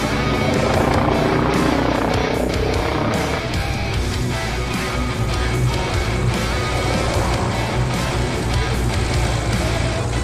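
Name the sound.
helicopter flying aerobatics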